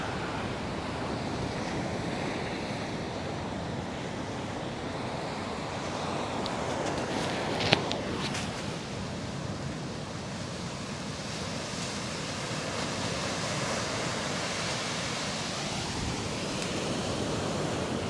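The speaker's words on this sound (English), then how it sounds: "I can share with you some of the sea breeze." Steady sea breeze and gentle surf wash along a calm, littered tropical shore facing offshore islands, a continuous close roar of wind and water with no voices.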